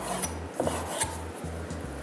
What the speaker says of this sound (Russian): После чего мы нарезаем их на небольшие фракции, примерно похожие, напоминающие на брусочки